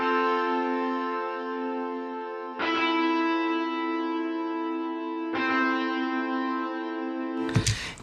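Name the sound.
distortion guitar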